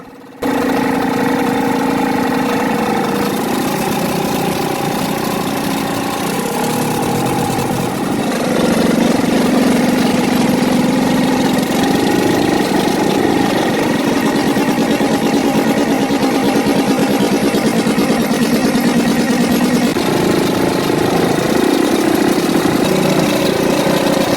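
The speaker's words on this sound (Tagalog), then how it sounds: "Paulit-ulit na namatay ang makina ng aming bangka dahil sa napakababaw na ng ilog." A boat's motor runs on a very shallow river in Samar, which makes the engine stall repeatedly. It drones steadily and loudly for the whole stretch with a small surge partway through, and no one speaks.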